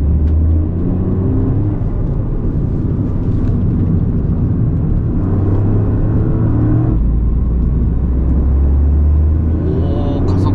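Lexus LBX Morizo RR engine accelerating around a circuit, a steady low drone rising and shifting in pitch, loud and continuous with rumbling road noise throughout.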